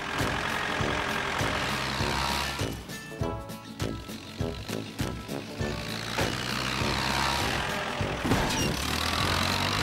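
A cartoon tractor's engine chugs and rumbles as it drives, with a steady low drone interrupted by a stretch of rhythmic clattering, fairly quiet and mixed with other soundtrack noise.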